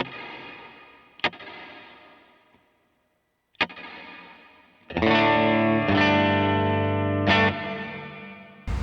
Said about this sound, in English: Plate reverb.